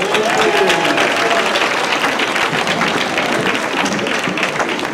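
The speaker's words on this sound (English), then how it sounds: "Can we please give a round of applause for tonight's Master of Ceremonies, the Reverend Dr. Robert E. Young." At a gala dinner, the audience breaks into steady, dense applause that fills the room for several seconds, loud and continuous with a faint voice underneath.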